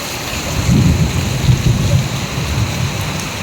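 A heavy downpour in Surat, Gujarat, hisses steadily, with low rumbling swells that sound like distant thunder or passing traffic rolling beneath the rain.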